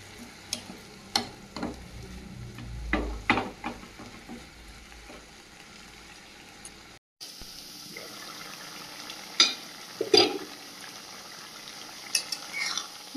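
Potato and bitter gourd frying in a pan give a soft close sizzle with a few sharp utensil clinks and stirring scrapes, a brief dropout midway, then a brighter, steadier sizzle with more clatter.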